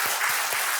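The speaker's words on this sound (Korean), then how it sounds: "다시 한번 박수로 환영해 주시기 바랍니다" Church congregation at a Korean Sunday worship service clapping in welcome, a loud, dense burst of applause filling the short moment, with a few low thumps beneath it.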